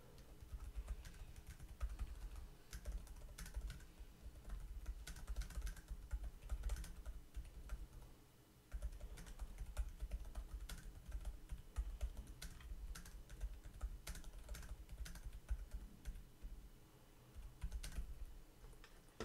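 Typing on a Microsoft universal keyboard: a long run of soft, quiet key clicks in an uneven rhythm, with a short pause about halfway through, heard close and alone.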